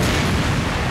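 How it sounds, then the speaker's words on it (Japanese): A balloon bursting during a Japanese quiz-show party game with two contestants, heard as a loud, dense blast of noise that fills the whole short moment, close and continuous with no talk over it. "このタイミングで爆発してしまったようでございます"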